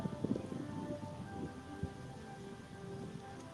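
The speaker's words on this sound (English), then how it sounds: "Oh, now the rain's starting to pick up." Rain falls harder outdoors at a SeaWorld Orlando park, a steady patter on surfaces with a brief low thump midway and no voices.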